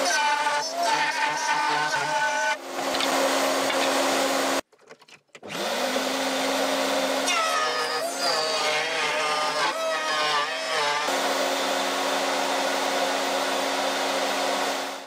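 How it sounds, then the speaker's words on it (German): A router cuts a T-slot groove into a wooden strip, first with a 6 mm bit, giving a loud, close, high-pitched whine that briefly stops and then spins back up, shifting in tone as it mills. "Erst mit dem normalen 6 mm und später mit dem T-Nut-Fräser."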